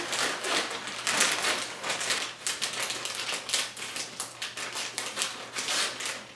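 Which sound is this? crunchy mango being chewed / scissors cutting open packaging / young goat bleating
scissors cutting open packaging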